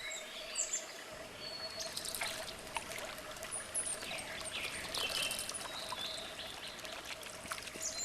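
An owl bathing in water, with soft splashing and trickling water running steadily throughout, while birds call intermittently in the background.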